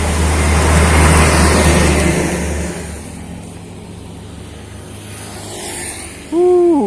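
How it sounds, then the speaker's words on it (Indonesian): Trucks rumble past nearby on a road by a reservoir in Lombok, a loud low engine roar that fades into softer traffic noise, followed by a short rising engine whine at the end. "Ini mobil-mobil truk."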